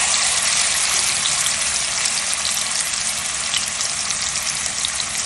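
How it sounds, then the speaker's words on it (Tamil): A large batch of chicken pieces fries on a tawa, giving a steady, dense sizzle that stays constant and close throughout, with no talk. "இப்போ நம்ம சிக்கன் பீஸ் எல்லாம் வறுத்துடலாம்"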